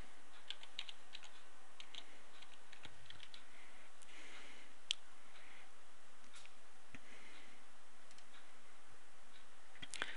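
A folder name is typed on a computer keyboard as a run of soft, quick key clicks, with a few sharper taps in a quiet room.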